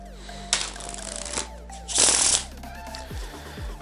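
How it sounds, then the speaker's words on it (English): A deck of playing cards being mixed by hand before a card trick, with two loud riffling bursts separated by quieter handling and faint clicks, close and alone. "let's just mix the cards here to make sure that all of them are completely shuffled"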